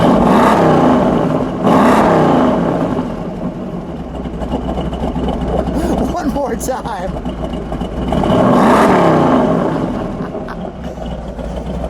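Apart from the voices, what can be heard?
1970 Dodge Charger 426 Hemi engine revving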